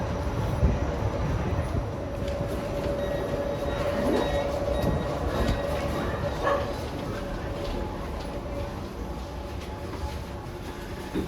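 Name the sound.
driverless metro train in Copenhagen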